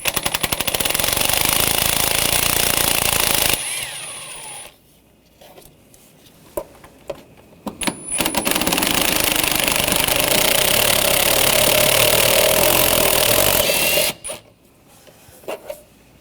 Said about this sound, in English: Use a 10mm socket. Take these out.